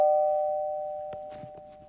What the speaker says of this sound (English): The doorbell went.